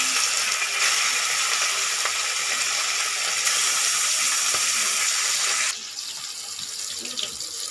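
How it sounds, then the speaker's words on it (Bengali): Sea fish frying in hot oil, a loud steady sizzle and hiss heard up close, dropping slightly in level partway through as the frying continues on its own. "তেল গরম হয়ে গেছে, এবারে মাছগুলো ভেজে নেব।"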